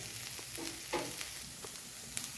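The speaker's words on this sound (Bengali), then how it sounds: "এরকম লাল লাল আলু ভাজা" Potatoes fry in a pan until reddish, giving a quiet, soft sizzle broken by a few faint scrapes and clicks of stirring.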